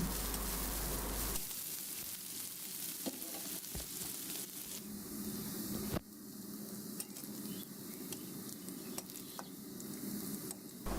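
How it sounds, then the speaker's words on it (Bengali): Chopped onion, garlic and dried chili fry in hot oil for a stir-fried greens dish, a steady close sizzle broken by the scrape and clatter of stirring, with one sudden loud burst partway through. "এখন গরম তেলে পেঁয়াজ কুচি রসুন কুচি শুকনা মরিচ কুচি দিয়ে কিছুক্ষণ ভেজে নিচ্ছি"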